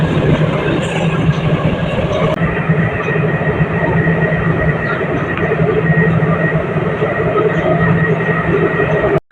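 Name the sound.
Namo Bharat regional rail train running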